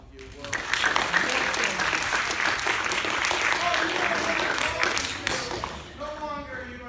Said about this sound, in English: Give them a big round of applause if you will.